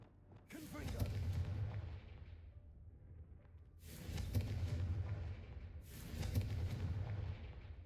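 Three heavy booming blasts from the Confringo fire spell in the Hogwarts Legacy video game, each a loud low rumble lasting a couple of seconds with a brief quieter gap between them.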